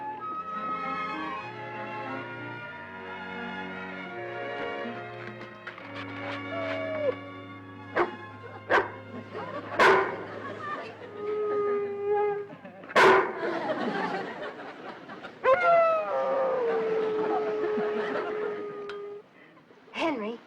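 A dog howls at night in drawn-out, wavering cries, interrupted by sharp knocks and bangs, with quieter stretches between.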